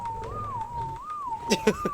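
A player character whistles a follow command in ARK Survival Ascended, a clear repeated two-note rising and falling whistle, close and moderately loud, with a few soft clicks near the end.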